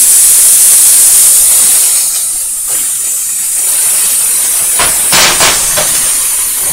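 Raw meat hitting an unoiled hot pan gives a steady loud hiss and sizzle throughout, with a couple of brief sharper crackling bursts near the end and no voices.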